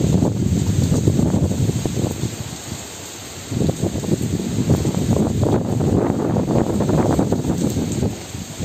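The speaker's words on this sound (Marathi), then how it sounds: "एवढा वारा सुटलाय" Strong gusting wind roars across the microphone during a cyclonic storm on the Konkan coast, loud and continuous with surging peaks and a brief lull midway, with no voices.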